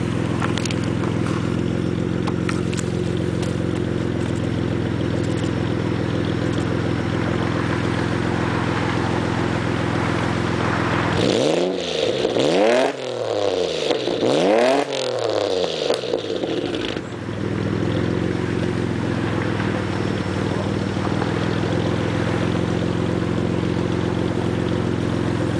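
Steady idle of a cold 3000GT VR4 fitted with DR750 turbos and a modified knockoff exhaust, a low droning hum with two brief revs swelling up midway before it settles back to idle.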